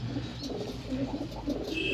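Low, soft pigeon cooing repeats in gentle rolling phrases over a steady background hum, fairly close, near a female pigeon sitting on eggs.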